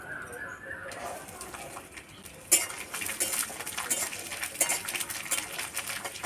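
A metal wok is set down and handled on a lit cooking stove, with a sharp clank partway through followed by scattered scraping and rattling knocks, heard close against quiet background noise.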